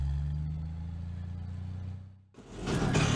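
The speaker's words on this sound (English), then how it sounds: "Jeep," A jeep engine idles with a low, steady, moderately close rumble that fades to a brief quiet, then surges into a louder, rougher noisy roar.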